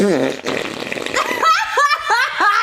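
A comedic fart sound effect plays in a puppet comedy sketch, a loud wobbling burst followed by a few short squeaky bursts, close and alone.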